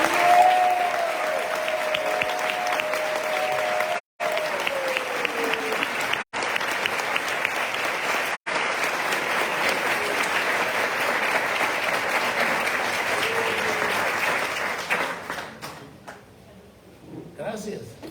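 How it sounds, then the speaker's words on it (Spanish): Audience applause welcoming a speaker to a Hare Krishna class, a steady broadband roar of many hands that holds for about fifteen seconds with brief cutouts, then thins out into scattered claps and voices. "saludemos con un caluroso aplauso a Hridayananda"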